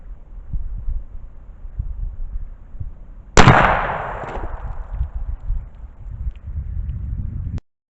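A single loud gunshot from a 10mm carbine firing Great Lakes Ammunition's Hornady XTP load cracks out midway, its sharp report trailing into a ringing decay over a steady low background hum.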